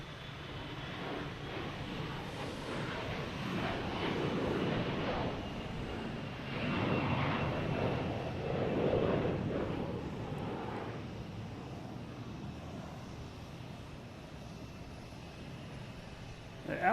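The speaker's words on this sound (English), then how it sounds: "A321 heading to Detroit. Delta going out is flight 1432." Delta Airbus A321 jet departing Boston Logan, a steady distant engine roar that swells and fades over several seconds, with wind noise and occasional voices in the background.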